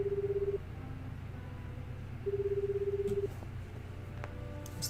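In the 428 Shibuya Scramble video game, a phone rings in two pulsed tones, one short and one longer, over low background music. Faint clicks follow near the end.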